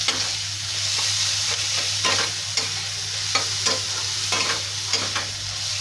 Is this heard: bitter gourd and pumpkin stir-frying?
yes